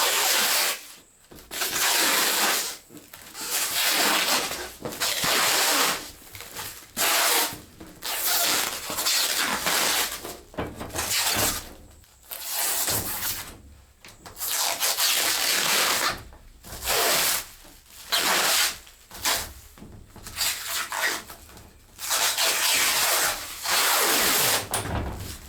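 Protective film is peeled off a polycarbonate awning sheet in long, loud tearing, rasping pulls, broken by short pauses, close up and without talk.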